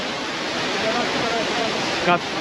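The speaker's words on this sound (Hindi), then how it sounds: "सामने खूबसूरत झरना" A mountain waterfall beside the steep Amarnath Yatra trail near Pissu Top climb, a steady broad rushing roar filling the whole clip with no break, with a brief faint voice near the end.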